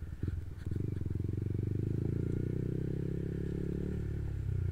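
A motorcycle rides along a badly damaged, dusty road behind other traffic, its engine a loud, steady close drone with rattling and clatter from the rough surface throughout.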